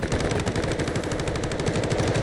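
Rapid gunfire from the FS-12 semi-automatic shotgun in Delta Force: a fast, even string of loud, close shots with no pause for about two seconds.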